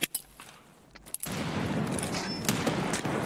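Grenade and mortar blasts in the shooter game Escape from Tarkov, a few sharp cracks, then a sustained rumbling barrage of explosions that keeps going at a steady, fairly loud level.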